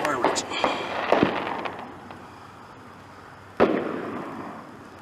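Fireworks go off with crackling pops and a sudden loud bang close by, the crackle trailing away between blasts while people talk and react over them.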